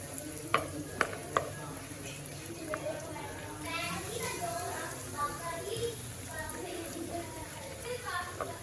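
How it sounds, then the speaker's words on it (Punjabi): French fries frying in hot oil in a home kitchen, a steady close sizzle with a few clinks of a utensil at the start and voices talking over it throughout. "ਫ੍ਰੈਂਚ ਫ੍ਰਾਈਜ਼ ਇਹ ਵੀ ਆਪਾਂ ਇਹਦੇ ਵਿੱਚ ਪਾ ਦਾਂਗੇ ਤੇਲ ਦੇ ਵਿੱਚ"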